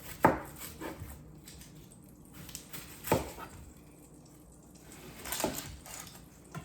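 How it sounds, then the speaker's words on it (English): A knife chops an onion for chicken à la king in a home kitchen, three separate sharp thunks a few seconds apart with quiet pauses between. "So I'm going to go ahead and get one onion chopped."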